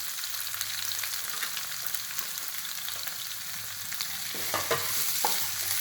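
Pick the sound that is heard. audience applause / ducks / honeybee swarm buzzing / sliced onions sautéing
sliced onions sautéing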